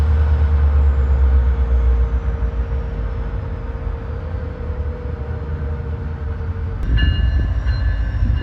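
A long freight train rumbles steadily past in the Union Pacific rail yard at Roseville, California, with heavy low rolling noise and a sustained tone, joined near the end by a sharp metallic squeal and clank.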